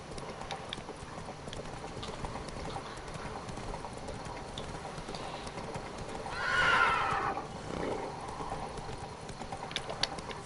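A horse whinnies once midway through The Witcher 3, a rising burst over steady background noise, with faint hoof clatter and ambient game sounds around it.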